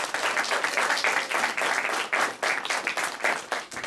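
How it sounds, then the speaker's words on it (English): A recital audience applauds the students with dense, sustained clapping that rises and dips in waves, close and loud throughout. "Big round of applause for all the students."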